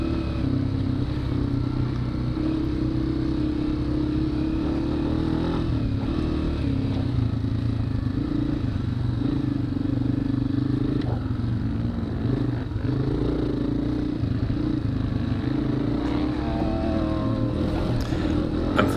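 A dirt bike races through a muddy hare scramble lap, its engine droning loud and steady, revving and shifting continuously with other riders nearby.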